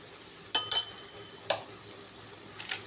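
Onions, tomatoes, peas and potatoes sautéing in a pan give a faint, steady sizzle, broken by a few sharp stirring scrapes and clinks of a spoon against the pan.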